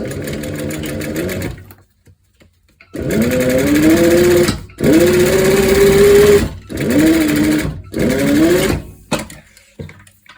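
A sewing machine stitches a leather corset in four loud, close bursts of whirring motor and needle chatter, each separated by short silent pauses.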